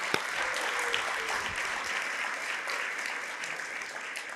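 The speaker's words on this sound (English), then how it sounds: "Let's give his friends and family and colleagues a big round of applause." Audience applause at a lecture event honoring a speaker, a steady, moderately distant wash of many hands clapping for several seconds with no voice on top.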